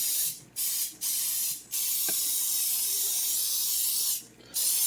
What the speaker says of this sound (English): This here is my pan, so I'm going to spray this real quick.